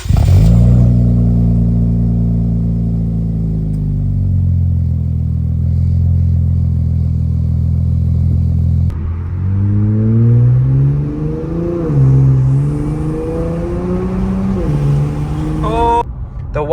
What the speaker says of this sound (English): I can hear my turbos, I can hear my intakes sucking all that air